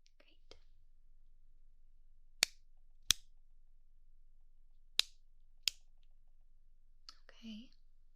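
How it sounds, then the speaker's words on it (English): A pen clicks four times, sharp and close, at uneven intervals in a quiet room, with soft whispering before and after. "tell me which side you hear my pen clicking from"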